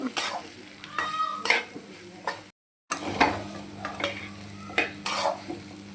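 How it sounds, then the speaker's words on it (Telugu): Bitter gourd with onion chili paste stirred in a hot pan, a spoon scraping in repeated strokes over a steady close sizzle of frying, with a brief silent break partway through. "కారం బాగా కలిపి ఉల్లిపాయ కారం బాగా కలిసేదాకా కలుపుకోవడం అన్నమాట"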